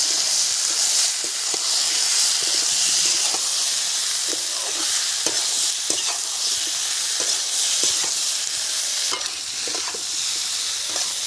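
Tomatoes go into a pan of frying spices, onion, potato and taro for a Bengali rohu fish curry, giving a steady, loud sizzle with scattered crackles and occasional stirring clinks throughout, with no talk.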